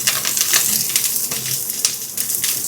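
Onion and spring onion hitting hot cooking oil in a high-heat wok, a bright, crackling sizzle with irregular sharp spits and pops throughout, close and fairly loud.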